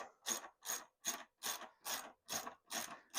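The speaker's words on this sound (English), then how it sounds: "we'll use our 17mm socket to loosen the wheel" A ratchet with a 17mm socket loosens a motorcycle wheel axle on a Talaria TrackNGo, giving eight evenly spaced, crisp clicking pulls in a steady rhythm, close and clear with no talk.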